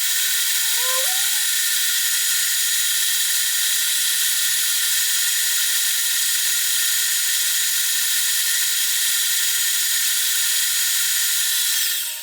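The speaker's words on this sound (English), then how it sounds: "so we'll have to put the lathe in reverse." A metal lathe runs in reverse while cutting a taper on a turned bullet. It gives a loud, steady high-pitched whine and hiss that stays constant throughout, with a brief squeal near the start.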